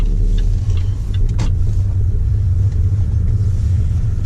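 Interior road noise of a car with a seven-speed gearbox, steady loud engine and tyre rumble throughout with a slight dip suggesting a gear change, no voices.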